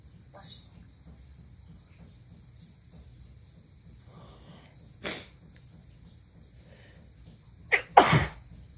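A person gives several strong sneezes: a small one early, a sharp one midway and a louder double sneeze near the end, against a quiet room.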